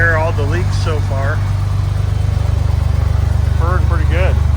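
A 1964 Chevrolet Corvair Monza 900 engine idles with a steady, low rhythmic rumble throughout, while someone talks briefly over it at the start and end.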